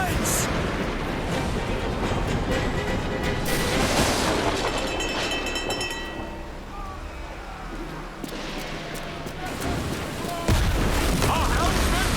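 Ship cannons firing during a naval battle in Assassin's Creed Black Flag, a run of deep booms and bursts under loud battle noise, crackling debris and shouted crew voices throughout.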